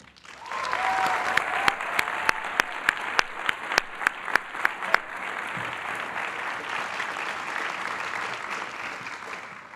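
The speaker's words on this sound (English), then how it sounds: "So I ask you all to pause and applaud yourselves" Graduation ceremony audience at a Columbia College commencement bursts into sustained, dense applause with sharp claps standing out near the start, filling the room for nearly ten seconds without speech.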